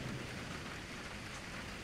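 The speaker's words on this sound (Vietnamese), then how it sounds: "Mưa xối thẳng vào mặt của cả hai" Heavy rain pours steadily in a dense, constant hiss, loud and unbroken, used as a sound effect in a spoken ghost story set by a river in northern Vietnam.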